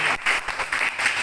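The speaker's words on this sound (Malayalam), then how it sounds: "ഒരു ക്ലാപ്പ് കൊടുക്കും മോനിക്ക്." Children at a kids' camp in a Kerala primary school clap for a boy, a short, fairly close burst of rhythmic clapping in uneven pulses lasting just over a second.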